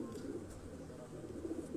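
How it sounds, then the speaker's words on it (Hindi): Pigeons of a Tumchir breed in a loft coo softly at a distance, low repeated murmuring calls under a quiet background hum, with no clear talk. "कबूतर हैं दोस्तों।"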